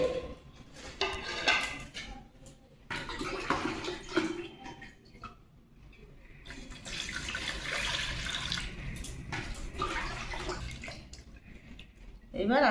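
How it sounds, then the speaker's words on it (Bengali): Chopped ash gourd pieces being rinsed and squeezed by hand in a bowl of lime water, with sloshing, splashing and dripping that come and go in uneven bursts at close range. "আরো একবার আমি জল দিয়ে ধুয়ে নেব।"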